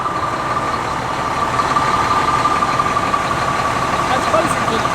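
Steady low rumble of a truck engine idling during a corn harvest, close and constant, with voices talking over it.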